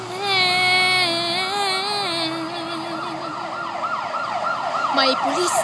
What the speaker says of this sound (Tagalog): Ay, ambulansya pala.